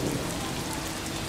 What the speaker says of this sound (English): Because there was thunder and lightning and quite rain.